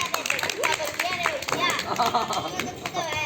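Rapid, uneven clapping from a small crowd at an Indian street magic show, mixed with excited voices and children chattering over it.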